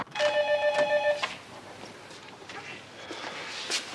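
An office telephone rings unanswered with a short burst of bright, trilling electronic rings at the start, then falls quiet while faint movement and soft footsteps follow in the room.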